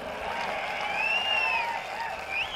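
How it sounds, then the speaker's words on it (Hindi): Women in an audience at a rally in Solapur clap together in a sustained burst of applause, with crowd noise and whistling over the top. "देखो महिलाएं ताली बजा रही है"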